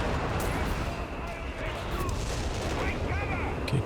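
Counter-barrage artillery fire in Company of Heroes 3, a 2v2 match, with continuous rumbling explosions and distant blasts layered over steady battlefield noise throughout.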